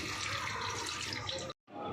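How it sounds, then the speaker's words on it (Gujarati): Cold water poured over boiled pasta in a colander, a steady rushing splash that cuts off abruptly for a moment before resuming. "કાણાવાળા વાસણમાં કાઢીને તેની ઉપર ઠંડુ પાણી રેડી દેવાનું, જેથી આપણા પાસ્તા ચોટે નહીં।"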